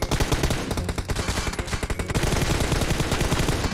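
Heavy automatic gunfire from a PUBG Mobile match, a loud, dense rattle of rapid shots that runs without a break for the whole stretch.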